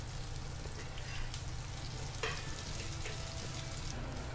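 Chopped onions fry in a pan over low heat as they turn golden, giving a steady, close sizzle that stays even and unbroken throughout.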